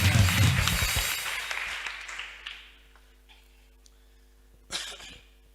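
A church congregation in Rwanda breaks into loud applause on the pastor's request, a dense burst of clapping that gradually fades over a few seconds, followed by scattered claps, a cough and one brief final flurry.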